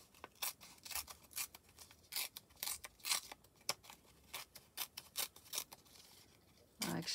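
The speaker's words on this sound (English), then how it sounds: "And now I'm going to tear." Paper being torn by hand around a butterfly embellishment for a junk journal: a quick series of short, crisp ripping bursts, close and fairly quiet, with a slightly longer tear at the end.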